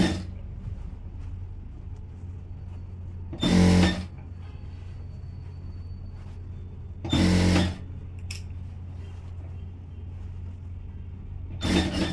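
A sewing machine stitching a silk skirt runs in three short whirring bursts of about half a second each, separated by quiet pauses, close and with no talk.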